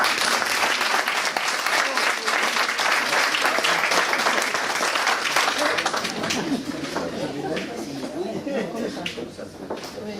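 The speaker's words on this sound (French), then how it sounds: "Vous pouvez les applaudir." An audience at a 50th–70th wedding anniversary celebration in Bessan applauds a couple married in 1967, with loud, dense clapping that continues steadily and then thins and softens toward the end, with voices mixed in.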